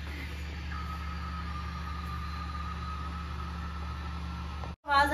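A Havells coffee maker brewing gives off a steady low hum with a faint whine, constant and close for about five seconds before cutting off sharply and breaking into a short burst of louder gurgling noise at the end.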